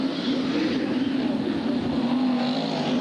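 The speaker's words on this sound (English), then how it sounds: "The glorious noise from the Peter Folding engine there." A stock car engine roars steadily at Bradford during a 1994 race, a loud sustained drone with a fixed pitch that holds without break and has no talk over it.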